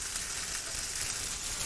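Teriyaki chicken pieces pan-frying, skin side crisping, a dense, even, continuous sizzle close up with no talk.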